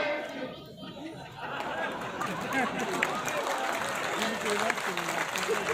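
Audience applause at a Hindi poetry recital, a kavi sammelan: a steady wash of clapping with crowd murmur and a little laughter, building after the first second and staying fairly loud throughout.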